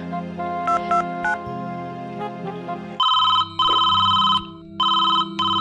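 A mobile phone ringtone plays loudly in a home, starting with a melodic tune and then repeating bursts of bright electronic ringing with short gaps between them.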